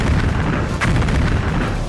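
A heavy explosion from an Iranian-made Shahed kamikaze drone strike in Ukraine, a dense, loud rumbling boom that fills the whole stretch with a steady roar.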